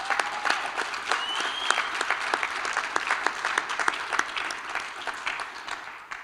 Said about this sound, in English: Can we give a clap for that?